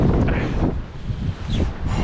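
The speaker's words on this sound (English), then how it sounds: "The wind is so bad today." On a rocky Rhode Island shore in rough conditions, strong wind buffets the microphone in loud, gusting rumbles that rise and fall over two seconds, with no talking.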